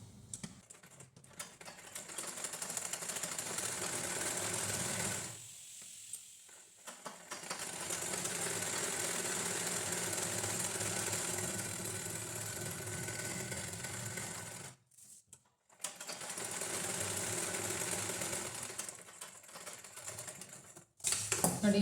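A sewing machine stitching around the lining of a blouse runs in long steady whirring bursts, close and fairly loud, with two short pauses between runs and no talking.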